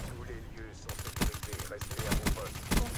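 Rapid gunfire in the video game Black Ops 3 rattles in dense, repeated bursts, loud and close, while a player talks over it.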